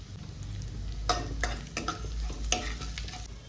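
Cumin, chopped garlic and kasuri methi frying in hot oil for a tempering, with a steady sizzle and several sharp stirring scrapes of a spoon in the pan, close and clear.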